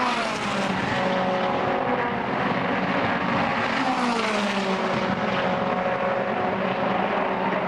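Race cars lapping the Daytona track, a loud continuous engine drone with shifting pitch as cars pass and sweep through the tri-oval, no voices.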